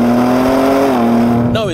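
A G82 BMW M4 Competition pulls hard with its gearbox in the most aggressive shift setting, its engine droning loud and steady near the microphone before a quick shift near the end.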